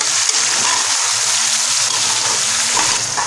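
Chicken and ground garlic fry in a pan for a ginger chicken karahi, giving a loud, continuous sizzle with faint stirring scrapes.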